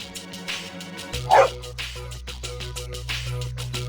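Koromaru, the dog from the video game Persona 3 FES, gives a few short yips and barks over in-game background music.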